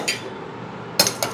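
White rice being spooned into a lunch box, heard as a few light clinks and scrapes of a serving utensil against the container, with two sharper taps near the end in a quiet room.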